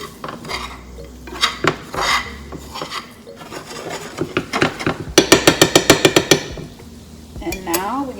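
Breakfast ingredients stirred in a pan with a utensil, giving repeated scraping and rasping strokes, then a quick run of rhythmic metallic clinks against the pan, close and fairly loud.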